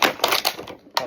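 Small plastic accessories for a Dominik Mysterio Ultimate Edition action figure snap out of their plastic packaging tray in a few quick, close, crisp clicks within about a second.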